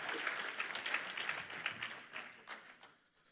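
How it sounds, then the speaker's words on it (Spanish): A church congregation claps for the Lord during a bilingual service, the crowd's applause rising in uneven bursts before thinning out and fading to near silence at the end. "Come on, give a stronger clap offer to the Lord."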